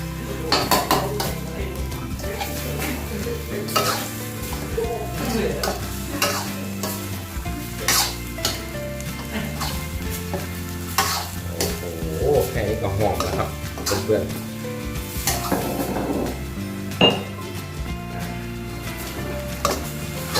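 Free-range chicken dry stir-fried northern Thai style in a wok, with steady scraping of a metal spatula against the pan, clanks and sizzling over about twenty seconds of continuous close cooking.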